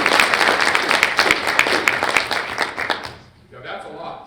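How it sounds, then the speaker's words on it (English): Audience at a higher education press conference applauds, a lively burst of many hands clapping with distinct sharp claps that dies away near the end, followed by a voice speaking. "Let's give a big round of applause to Lumina for being here today."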